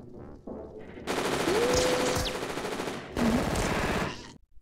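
Rapid machine-gun fire from the 1984 film The Terminator, loud sustained bursts crackling in two long volleys with a short gap between them, no talk over it.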